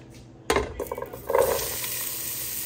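Chopped celery, onion, carrots and garlic tumble into a hot pan for a bean soup: a sudden clatter and crackle, then a quick stir and a steady, moderate sizzle that carries on alone.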